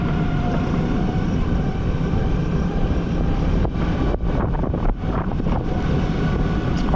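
Steady wind gusting across an open hillside, a loud continuous rush buffeting the microphone with a few brief dips in the final seconds.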